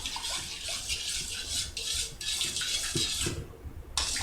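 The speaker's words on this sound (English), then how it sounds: "I'm just going to stir this together to dissolve it" A liquid mixture for pretzel dough is stirred to dissolve it, making a series of swishing, sloshing strokes with light knocks close by.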